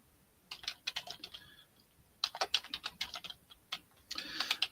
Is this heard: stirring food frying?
no